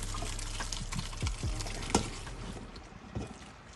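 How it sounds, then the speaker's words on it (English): Cooked macaroni being drained into a strainer, with a soft wash of pouring water and a few wet splashes and thuds from the pasta landing, moderately quiet and without talk. "I'm gonna, as best as I can, get all this macaroni into this strainer"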